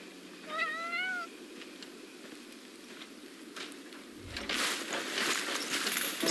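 A cat meows a couple of times in the video game Crimson Desert, a clear, close call over a steady bed of rain-like ambient noise, followed by rustling footsteps and a louder burst of environmental sound.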